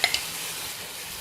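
Onions sauté in a pan for a ginger gravy, giving a steady hiss and sizzle after two quick stirring clanks at the start.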